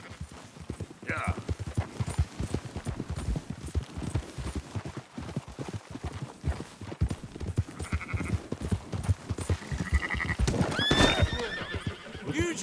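Horse hooves clip-clop steadily alongside neighs and whinnies during horseback sheep herding in Red Dead Redemption 2, with faint sheep bleats mixed in and someone talking over much of it.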